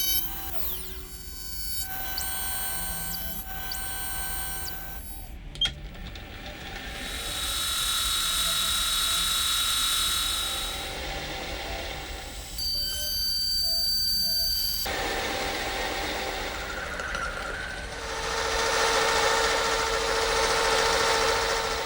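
A lathe cuts brass clock pinions in a rough stock-removal pass, giving sustained high-pitched machining tones and whine that shift in pitch across separate passes, with mechanical clicks between cuts.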